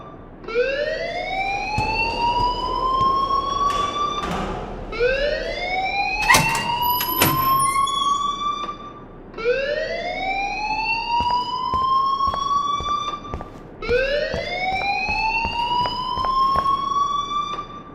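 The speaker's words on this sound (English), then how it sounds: "please turn off that alarm since that's your job." A repeating electronic fire alarm in the video game Life is Strange, sounding in four long rising whoops that sweep upward and hold, loud and steady with brief gaps between, with faint clicks and thuds beneath.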